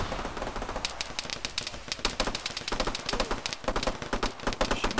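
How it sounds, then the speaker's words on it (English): Dense, rapid gunfire crackles through an Arma firefight with ShackTac, sharp shots and bursts stacking in quick irregular rhythm, loud and continuous with no talking. "Shooting all around him."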